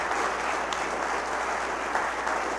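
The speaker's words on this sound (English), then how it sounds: "Let's give Roxanne a huge round of applause." Steady, dense applause from a seated audience honouring a governor's chief of staff, a continuous even wash of many hands clapping at moderate distance with no talk over it.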